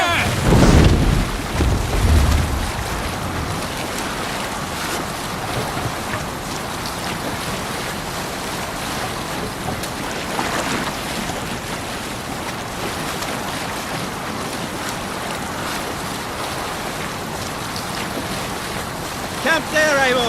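In a video game, a sailing ship cuts across ocean waves: a continuous broad rush of water and wind runs the whole time, heavy splashing at the start, then a steady wash with occasional surges.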